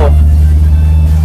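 A car engine fitted with a custom celurit-style distributor cap gets a light throttle blip while driving, a loud, steady low engine drone heard from inside the car, with someone talking over it.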